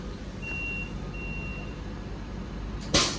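Two steady electronic train door-closing buzzers sound one after another over a low hum at Warrington Bank Quay station, followed by a sharp hiss of air at the end.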